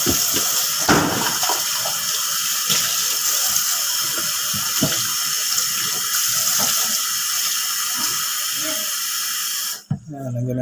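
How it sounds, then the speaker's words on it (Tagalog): Tap water pours steadily and loudly into a cooking pot holding tomatoes and pompano fish, a continuous hissing splash that runs for about ten seconds before abruptly cutting off, with a voice talking faintly beneath it. "Yan, lagyan natin ng tubig."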